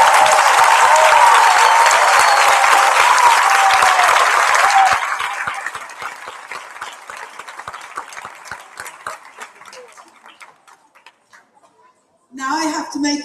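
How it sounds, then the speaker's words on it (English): Applause at a school prizegiving rises as a loud, dense wave of clapping from the crowd, then thins over several seconds to scattered claps and fades out before a voice speaks at the end. "A last round of applause."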